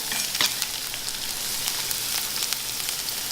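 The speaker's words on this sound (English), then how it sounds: "Saute that up." Light green parts of onion sauteing in a pan for an asparagus, pea and prosciutto tart, a steady bright sizzle with a few soft stirring scrapes, close and continuous with no talk.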